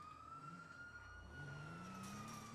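A police car siren wails in GTA 5, a steady rising-and-falling tone heard continuously at moderate distance over low engine and traffic rumble during a street chase.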